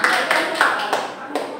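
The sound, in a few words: applause, clapping for a correct answer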